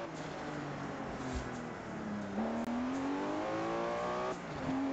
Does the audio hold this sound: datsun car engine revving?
yes